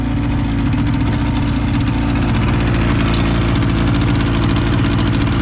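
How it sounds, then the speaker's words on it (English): A bass sled boat's outboard motor idling as it warms up, a loud, steady, throbbing low rumble with fine rapid pulsing, close and unchanging throughout, with no talk. "Getting the motor warmed up here."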